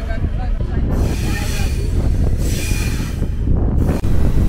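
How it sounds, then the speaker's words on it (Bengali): Madhumati Express train pulling away from Bhanga railway station, a steady loud rumble of the coaches with a soft hiss throughout and a brief dip near the end. "আমাদের ট্রেন ছেড়ে দিল ভাঙ্গা রেলওয়ে স্টেশন"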